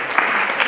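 Audience clapping fills the moment, a dense, steady wash of applause from a crowd with no talking over it.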